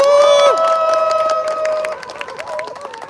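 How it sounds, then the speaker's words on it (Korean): Crowd applauding at a Korean labor union rally: a sustained whistle-like tone and scattered claps, which fade into looser clapping and cheering. "다시 한번 큰 박수 한번 보내주셨으면 좋겠습니다."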